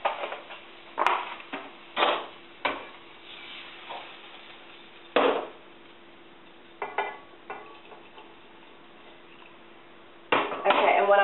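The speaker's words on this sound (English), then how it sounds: "I'm going to remove the fish from the pan, and I'm going to get rid of some of the excess oil" Fish lifted from a frying pan and excess oil poured off, heard as scattered metallic clanks and scrapes of pan and utensil with brief loud knocks separated by quiet gaps.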